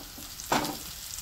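Curry leaves hitting hot oil in a pan of mutton masala with crushed chilli, a sudden sharp sizzle bursting up midway through a steady low frying hiss.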